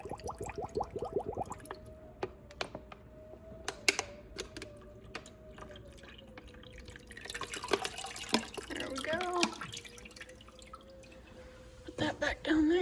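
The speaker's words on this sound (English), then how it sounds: "we'll get this filled right back up." Water pouring and splashing into a cichlid aquarium tank as it is refilled, a steady trickle with drips and a louder rushing burst near the end, with a faint background tone.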